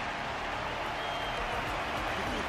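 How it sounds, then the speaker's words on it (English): Steady in-game crowd applause from the Honkai Star Rail 2.5 Luminary Wardance tournament event, a dense, continuous wash of clapping and cheering that holds at an even level throughout. "Their constant applause is a salute to this resilient Bellabogian fighter."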